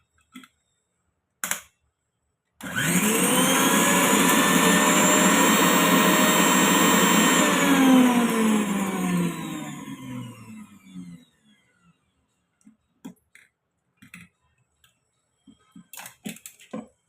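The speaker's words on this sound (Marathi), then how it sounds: "ते मिक्सरला लावून फिरवून घेऊ." A mixer grinder whirs loudly as it grinds fresh coconut, two green chillies and four garlic cloves without water, running steadily for about eight seconds before winding down, bracketed by a few faint knocks.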